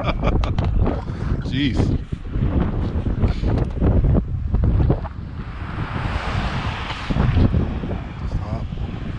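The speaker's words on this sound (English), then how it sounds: "The wind is a problem today." Heavy wind buffeting a microphone outdoors, a loud continuous roar with gusts that swell and ease, while people talk and exclaim over it.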